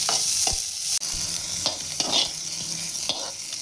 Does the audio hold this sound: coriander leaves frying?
yes